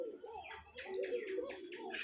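Domestic pigeons coo in a loft during the rainy season, with soft, repeated throaty calls at close range, faint chirps, and a low background murmur.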